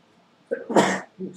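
A single sharp human sneeze, close and loud, starts with a short intake and bursts into a breathy explosion, then a softer trailing vocal sound follows.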